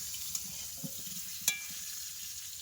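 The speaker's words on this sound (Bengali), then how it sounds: "এখন আলু ভাজা হচ্ছে" Steady crackling sizzle of potatoes frying in a hot pan, with a couple of sharp clinks of a utensil against the pan.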